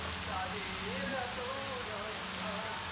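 Chopped potato and onion fry in a pan for a stir-fried bitter melon and shrimp dish, giving a steady, faint crackling sizzle throughout, with a voice briefly audible beneath it.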